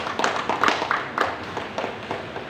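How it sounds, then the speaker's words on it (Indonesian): A small congregation at a church service claps for someone, a short burst of sparse, uneven handclaps that stays moderately close and fades without talk. "Tepuk tangan buat dia."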